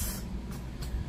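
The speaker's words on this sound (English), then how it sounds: "So it comes in like a spray bottle. So you can just kind of spray it on your stuff." Liquid aminos misted from a handheld spray bottle onto food, a few short soft hissing bursts close by with no talking.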